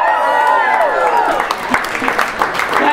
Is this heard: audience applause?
yes